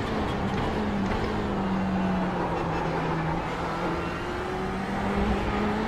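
Ferrari race car on the Sebring circuit in the iRacing sim, engine droning steadily at a sustained pitch with slight rises and dips through a corner, close and continuous for the whole stretch with no talk.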